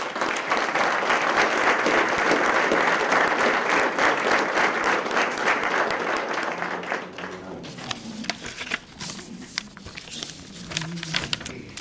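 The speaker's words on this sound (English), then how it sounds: "So please, let's give him a round of applause." An audience at a police department promotional ceremony breaks into dense, sustained applause that gradually thins into scattered claps, with faint voices emerging as it dies down.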